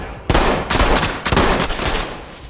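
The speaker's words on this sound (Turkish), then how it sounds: "camdan vuruyorum." Gunfire through a window in the tactical shooter game Ready or Not: a sustained burst of loud, close shots in quick succession, several sharp cracks in a row over about two seconds, with no talk.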